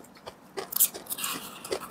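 Crunchy bites into a cup of patbingsu shaved ice topped with cereal, several close, crisp crunches and chewing sounds in quick irregular succession with no talk.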